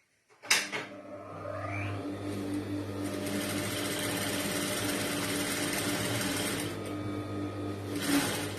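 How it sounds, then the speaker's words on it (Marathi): A sewing machine runs steadily, stitching around the cut neckline of a blouse. A short clack opens a long, even, close whirring run that eases off near the end. "अगोदर जो गळा कट केला त्याला आपण काय करायचं, टिप मारून घ्यायची"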